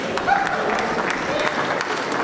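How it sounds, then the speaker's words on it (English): A South Australian crowd at the AFL draft applauds steadily throughout, a dense wash of clapping with scattered cheers in a large hall. "The South Australian crowd, plenty to cheer about tonight"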